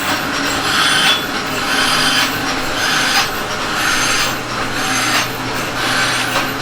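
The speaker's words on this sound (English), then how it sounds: "This machine here cuts all of our brass gears for on our gearboxes." Gear cutting machine in a factory shop milling brass gearbox gears, a loud continuous grinding, rubbing whir with a faint squeal and steady pulsing, no talk.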